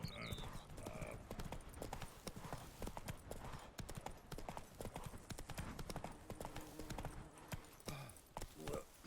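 Roach the horse gallops in The Witcher 3: Wild Hunt, with rapid, rhythmic hoof clip-clops running throughout, up close and loud, plus a brief snort or voice sound.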